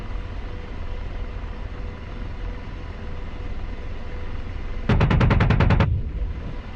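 A burst of rapid, evenly spaced gunfire from an AH-64 Apache's cannon aimed at a ZSU in a DCS combat simulation, about a second of loud automatic rounds over a steady engine and rotor drone.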